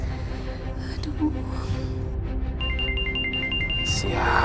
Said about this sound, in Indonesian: ayo atuh Pak Mamat, telepon saya teh diangkat